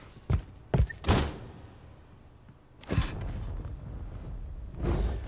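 Door in a video game being worked and shut: several sharp creaking thunks close together near the start, then a heavier scraping clunk and a final softer rattle, with quiet room tone between and no talk.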